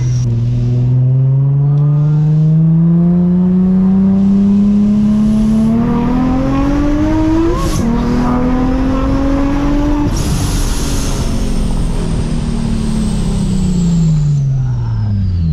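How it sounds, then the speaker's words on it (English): A loud supercharged Infiniti G35 engine revs hard and roars continuously, pitch climbing and falling as it accelerates close by, with no talk over it. "That's the whole point of having a loud car."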